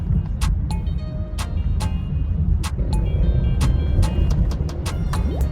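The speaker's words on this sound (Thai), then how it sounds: "เดี๋ยวจะเหยียบขึ้นสะพานให้ดูนะครับ โอ้รอบขึ้นมาเร็วมากเลยนะครับ" Car engine revving as it accelerates up a bridge over a Bangkok intersection in eco mode after its throttle body and air-flow sensor were cleaned; a steady, loud low rumble builds under intermittent faint clicks and beeps.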